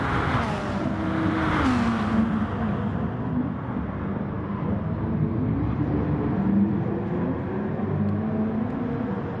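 Race cars lapping the Nürburgring GP circuit in a racing simulator, a steady loud engine drone with rising and falling pitch as the cars accelerate and shift, close and continuous with no talking.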